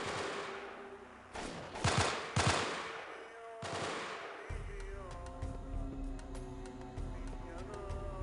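Gunfire in Delta Force: Black Hawk Down on Kharq Island: several loud bursts of automatic fire in quick succession early on, followed by a steadier rattle of distant shots over game ambience.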